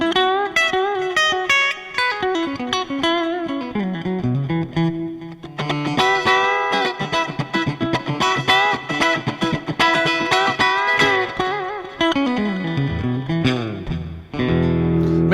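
A Taylor T5 Custom guitar on pickup position 3, played through an electric amp, strums and picks rhythmic chords with distortion and effects, loud and continuous for about fifteen seconds with no talking.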